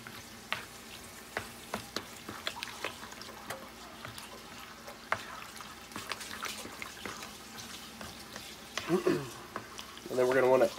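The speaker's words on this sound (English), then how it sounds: "go ahead and stir that up" Stirring a mixture in a pan for fish gratin, with repeated sharp scrapes and knocks of the utensil over a low background, and a voice speaking briefly near the end.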